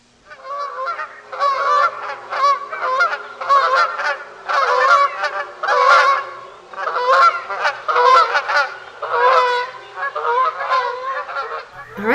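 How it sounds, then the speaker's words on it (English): Canada goose giving its standard honk in a forest, a loud, close series of repeated nasal honks in an uneven rhythm, heard alone with no talking. "That is your Canada goose."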